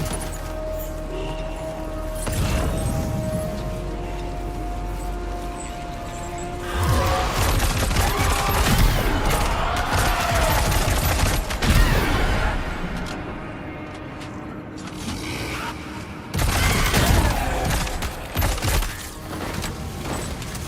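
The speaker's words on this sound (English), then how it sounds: "Warrior assault rifle." Bursts of assault rifle fire from a Warrior rifle crackle in Death Stranding 2 during a fight, in dense volleys mixed with crashes and a steady background hum.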